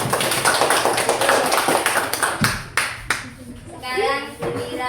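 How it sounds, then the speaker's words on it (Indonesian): A classroom of students claps together, a burst of fast, scattered hand claps that tails off within a few seconds as a voice begins speaking. "Tepuk tangan."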